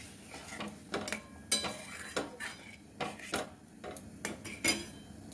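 Metal pot and lid clanking while jackfruit kofta curry cooks, a series of sharp clinks and scrapes spaced roughly every half second, close and fairly quiet with no talk.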